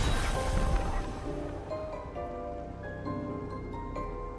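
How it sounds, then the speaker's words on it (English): Constant rain falling outside at night, a soft, steady wash of hiss and patter that stays faint and even throughout with no voices over it. "There is like constant rain falling outside."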